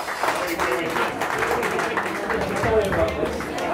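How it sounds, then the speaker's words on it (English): A crowd at a rock 'n' roll club night applauds the sound guy, a continuous wash of clapping with voices talking and calling out over it throughout. "Give him a big round of applause, ladies and gentlemen, for the sound guy."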